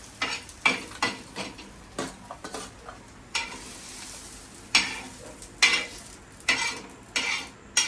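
Chopped onion frying lightly brown in a pan for a village-style chicken curry, with a soft continuous sizzle broken by repeated close scraping and stirring strokes of a spoon against the pan.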